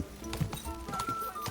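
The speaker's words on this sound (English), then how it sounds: "You do not need to hold shift while riding the horse." Horse hooves clip-clop in an uneven rhythm while riding in Kingdom Come Deliverance 2, close and moderately loud over a low game ambience.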